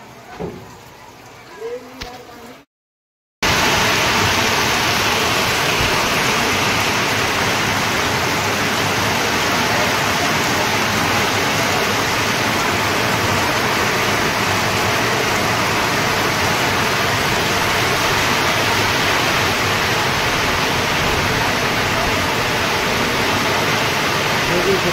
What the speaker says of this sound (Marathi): एकदम मुसळधार पाऊस आलेला आहे.